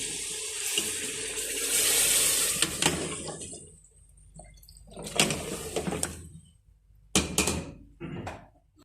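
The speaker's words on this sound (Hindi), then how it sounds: "अब इनमें 2 से 3 गिलास पानी डालेंगे" Water runs and splashes steadily into a cooking pot of potatoes and beef for a few seconds, then stops, followed by a few clattering knocks and scrapes of kitchenware.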